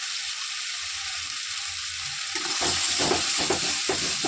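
Spice paste with turmeric fries in a pan with a steady hissing sizzle, joined after a couple of seconds by louder, irregular scraping and stirring strokes close by.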